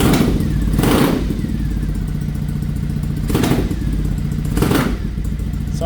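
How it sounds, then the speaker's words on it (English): A Triumph Thruxton 900 with carburettors and a programmable CDI ignition runs at a steady, close, loud idle with a low throbbing engine note and a few louder swells, with no voices. "So let's fire it up. Cool. Good start. Seems to be same idle."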